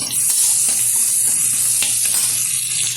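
Radish and radish greens frying loudly in a pan, a close, steady dense sizzle throughout with faint scraping from stirring.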